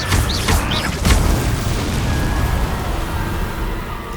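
Incendio fire spell cast in Hogwarts Legacy on PS5: a loud, booming whoosh bursts out about a second in, then fades into a lingering rumbling ambience.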